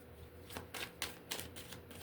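Tarot cards shuffled by hand in a few quick, crisp bursts of riffling and sliding, close and fairly quiet, with no talking.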